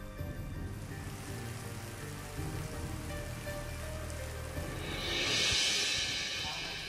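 Heavy rain pours steadily with no letup, a dense broadband hiss of drops hitting surfaces that swells louder toward the end, with a low hum running beneath it.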